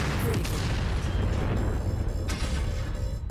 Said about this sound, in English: He's got an ammo explosion.